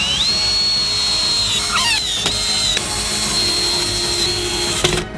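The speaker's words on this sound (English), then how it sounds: "and tighten everything with screws" A power drill drives screws to fasten a wide wooden board between two parts of a giant DIY candy bar build, with a loud sustained whine that dips briefly and picks back up, plus a few sharp clicks near the end.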